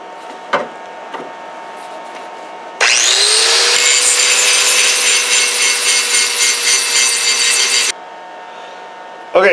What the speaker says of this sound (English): I'm going to grind that out now and get all the way down through it